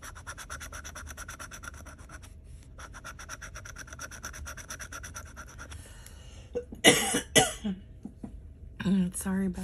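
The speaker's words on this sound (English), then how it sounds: "Sorry about that cough." After a stretch of rhythmic scratching, a few harsh coughs burst out close by, followed by a throaty clearing sound near the end.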